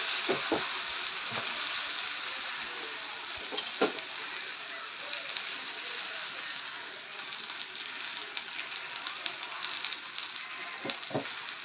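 A thalipeeth sizzles steadily in oil on a hot tawa, a soft continuous frying hiss with small pops scattered through it, fairly quiet throughout.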